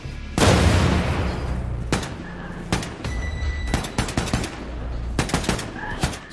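Gunfire in Wolfenstein II: The New Colossus opens with a loud blast and booming tail, followed by a string of sharp single shots and rapid bursts with reverberant decay.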